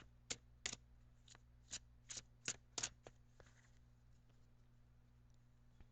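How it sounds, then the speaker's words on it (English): Oracle cards are shuffled in short riffling bursts, several quick flutters in a row, then faint handling sounds in a quiet room. "now I am going to shuffle for your Angel Oracle card"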